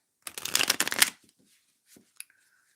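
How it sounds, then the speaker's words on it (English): A deck of tarot cards gets one quick, crisp riffle shuffle lasting about a second, followed by a few soft taps as the cards settle. "I'm going to shuffle some tarot cards"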